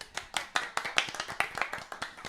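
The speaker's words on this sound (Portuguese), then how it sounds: "Vamos bater palmas." A small studio audience at Unifesp claps on cue, a sparse, uneven patter of separate hand claps at a fairly low level, with no talking over it.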